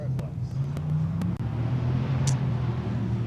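A rally car engine drones loudly and steadily nearby, a low sustained rumble with faint clicks and a brief dip midway.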